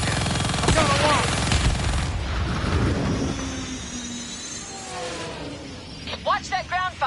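Rapid ground gunfire crackles over rumbling engines in the Call of Duty Black Ops 3 campaign, bursting loudly at first and then easing under radio chatter and voices.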